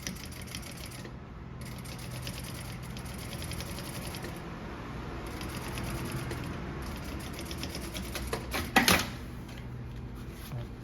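A sewing machine stitches the lining of a tote bag with a printed synthetic panel. The stitching is a steady, fairly quiet mechanical patter with brief pauses, and a sharp clunk comes near the end.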